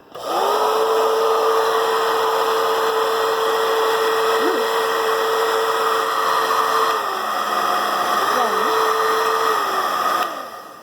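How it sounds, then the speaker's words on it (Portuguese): A hair dryer runs steadily at close range with a constant whirring motor and airflow hum, briefly dipping and shifting pitch near the end before switching off. "a energia elétrica é o que faz com que o secador funcione"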